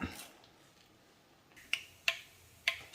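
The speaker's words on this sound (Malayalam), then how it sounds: "കടുക് പൊട്ടിയിട്ടുണ്ട്." Mustard seeds pop in hot sesame oil, giving several sharp, distinct crackles spaced irregularly over a quiet background, fairly close and crisp.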